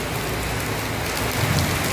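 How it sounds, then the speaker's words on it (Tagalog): Light rain falls steadily in Marilao, Bulacan, a dense, even patter with no voices. "Hindi malakas ang ulan eh."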